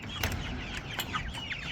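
Chickens in a barn brooder clucking and chattering at close range, with several overlapping short calls and occasional wing flutters over a steady background hum.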